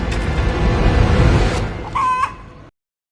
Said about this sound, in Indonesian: di tempat ini banyak sekali ayam